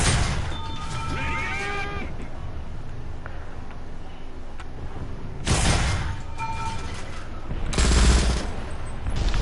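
Gunfire in War Thunder tank combat comes as loud broadband bursts, one brief shot early and two longer blasts later, over a steady engine-like rumble, with faint talk in places.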